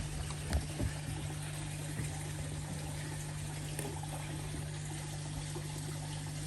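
Steady low splashing and trickling of water moving in a koi pond, with a constant pump-like hum underneath and a few soft knocks near the start.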